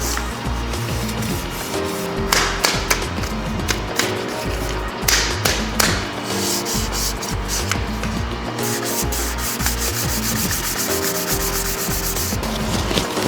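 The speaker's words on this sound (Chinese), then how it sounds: "我们再用800的砂纸将它打磨一遍" A primed BMW E46 M3 wheel is hand-sanded with 800-grit sandpaper, giving close, rhythmic scratchy rubbing strokes with occasional light taps and short pauses between passes.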